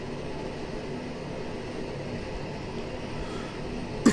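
Aerosoft Twin Otter turboprop taxiing in Microsoft Flight Simulator 2020, a steady droning engine hum at constant level with no talking, ending in a brief bump.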